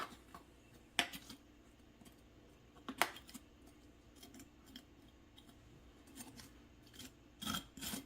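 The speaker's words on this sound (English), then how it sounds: "your peanut butter should be soft and melty. So you can kind of spread it around the top of your bars." Soft melted peanut butter is spread over the tops of peanut butter bars, giving faint scraping and rubbing strokes with a few sharper clicks of the utensil against the pan, quiet and intermittent.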